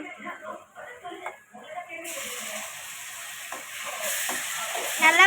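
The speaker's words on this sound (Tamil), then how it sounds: "இப்போ நம்ம டொமேட்டோ போட்டுக்கலாம்" Tomatoes dropped into hot oil in a pan for a South Indian pakoda kuzhambu start a steady, moderately loud sizzle partway through, with a voice talking over the frying.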